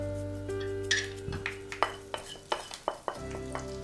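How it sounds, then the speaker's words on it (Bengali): Spiced potatoes going into hot mustard oil in a pan for Bengali alur dom: a steady low sizzle beneath a run of sharp metal clinks and scrapes of a spoon stirring against the pan, close and fairly loud, with no talk. "এখন এই মশলা মাখানো আলুগুলো গরম তেলে একটু সতে করব।"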